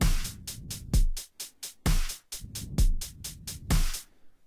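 An FL Studio drum pattern with a replaced kick drum plays in a tight loop: deep booming kicks land on a regular pulse under rapid crisp hi-hat ticks, close and clean with no voices.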